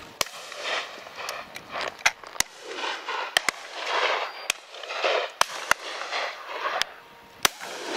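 Shotgun shots at a partridge shoot ring out as a series of sharp, distant cracks spaced irregularly over a steady outdoor background.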